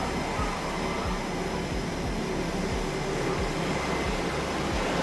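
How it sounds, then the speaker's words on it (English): Jet engines rumble aboard a U.S. Navy aircraft carrier during run-ups and tests, a loud, steady, broadband roar with a faint regular low pulsing underneath and no voices. "The rumble of jet engines occasionally pierces the din as technicians perform run-ups and tests."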